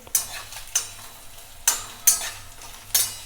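Garlic and dry red chilies sizzle and fry in a pan, with five sharp, bright stirring scrapes punctuating the steady crackle.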